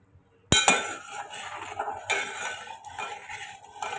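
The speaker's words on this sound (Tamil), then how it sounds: "ஒரு கரண்டி வச்சு கலந்து விட்டுக்கலாம்" A metal ladle clinks and scrapes against a pot as boiling milk is stirred, with sharp taps at the start followed by softer, irregular swirling knocks.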